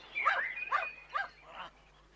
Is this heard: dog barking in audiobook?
yes